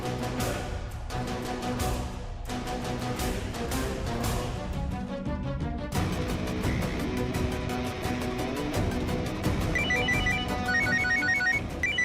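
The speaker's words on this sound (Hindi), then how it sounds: "बॉस का फोन।" A mobile phone ringtone plays for a boss's incoming call, a loud melodic electronic tune with repeating tonal phrases that keeps ringing steadily, alone with no talking.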